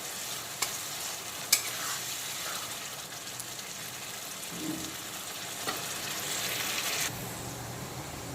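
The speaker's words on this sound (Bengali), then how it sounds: "এবার কিন্তু মশলাটাকে পুরো ভাজা ভাজা করে নেব।" Ground ginger and cumin spice paste fries in a pan with a steady, close sizzle, broken by a few sharp scrapes and clicks from stirring, and no voices.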